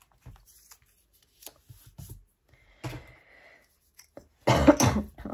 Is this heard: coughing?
yes